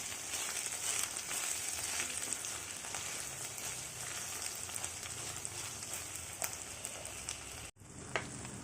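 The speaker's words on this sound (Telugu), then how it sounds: "వంకాయ ముక్కలు ఆయిల్ బాగా ఫ్రై అయ్యాక" Brinjal pieces sizzle in hot oil with a constant close crackle and scattered pops, one short clatter near the end, with no voices.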